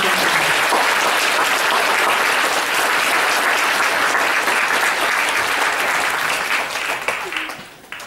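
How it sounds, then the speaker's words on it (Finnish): Long, loud applause from a crowd at a club's 60th anniversary event, dense steady clapping holding for several seconds before thinning out and fading near the end. "Annetaan aplodit näille pitkään hyvän."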